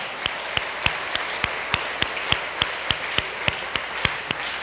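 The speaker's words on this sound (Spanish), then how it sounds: "Da un aplauso al Señor." A church congregation claps in steady rhythmic unison during a worship service, sharp even beats about every quarter second, loud and close over a diffuse room wash.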